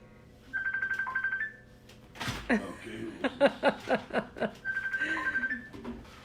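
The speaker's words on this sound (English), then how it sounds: "my phone is ringing" An electronic phone ringtone trills in two bursts, with a stretch of nearby voices and chuckling between them.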